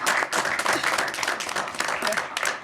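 Applause at a city council meeting, a dense burst of clapping from the room sustained for a few seconds without speech.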